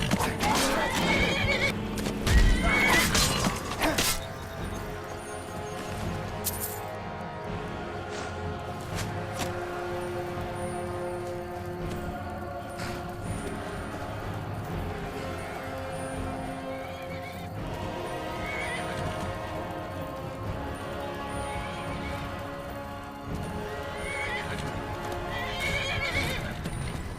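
A horse in Skyrim clip-clops along with repeated hoofbeats and gives a loud neigh near the start, over game ambience, with occasional speech.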